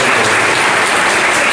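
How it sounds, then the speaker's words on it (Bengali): Students giving a loud round of applause for a teacher at an educational gathering, a dense, continuous burst of many hands clapping, close and full throughout. "আমি অনুরোধ করবো সমস্ত ছাত্রছাত্রীদেরকে একটা জোরে করতালি"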